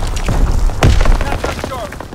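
A mortar shot exploding in a video game, several dull booms and thuds landing close and loud in quick succession, with a voice speaking over them.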